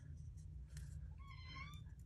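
A pet cat gives a single short meow near the end, faint and close, over a low background hum in a quiet room.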